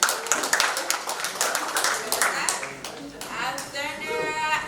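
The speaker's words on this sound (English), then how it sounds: "let's do a thunder clap and finish the session." A conference audience performs a thunder clap, sharp rhythmic claps building in pace, with voices and cheering mixed in near the end.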